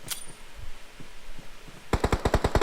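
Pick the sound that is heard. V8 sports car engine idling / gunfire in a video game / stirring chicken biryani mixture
gunfire in a video game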